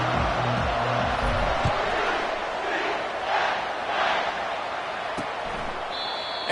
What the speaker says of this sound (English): And this crowd is ready for a big one.